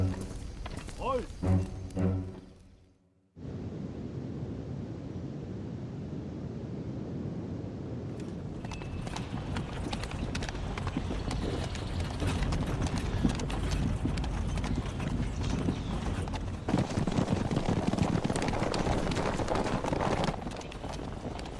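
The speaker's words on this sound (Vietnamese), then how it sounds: "Này Tam Hiệp, sao tôi lại nghe thấy tiếng vó ngựa vậy?" Horse hooves clip-clop steadily and fast in a deep forest, a dense rhythmic clatter that starts after a short pause and builds, with a voice speaking over it early on.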